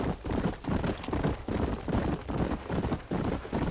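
Horse hooves galloping in the Red Dead Redemption video game: a steady, close, rhythmic clip-clop of hoofbeats that runs without a break from start to finish.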